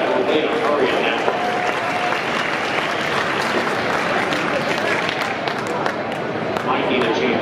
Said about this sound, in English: Round of applause for Marcus down there.